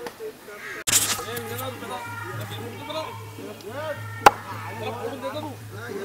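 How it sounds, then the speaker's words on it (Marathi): A knife chops through a large jitada fish, with a couple of sharp, isolated hacks standing out over a steady hum and background chatter from people nearby at a haldi celebration in Alibag. "आणि आता त्याची तुम्हाला कटिंग दाखवतो की कशा प्रकारे जिताडा एकदम मस्तपैकी कापला जातो"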